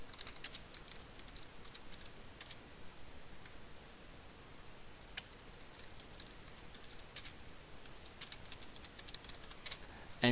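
Soft, quiet clicks from typing on a computer keyboard, irregular and faint, sit over low background hiss.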